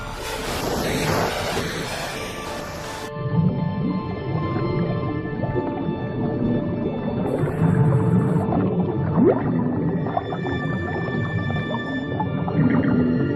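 Strange, low underwater calls from dwarf minke whales rise and fall over a constant wash of water and wave noise.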